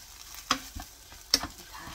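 Dried chwinamul greens are stir-fried over low heat in a pan, producing faint sizzling under a few sharp scrapes and taps from a stirring utensil, all fairly quiet and close.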